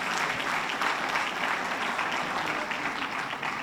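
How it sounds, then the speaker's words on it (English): A crowd at a police department annual awards ceremony applauds, a steady, full wash of clapping that stays even and fairly loud throughout without pause. "Let's give him a round of applause"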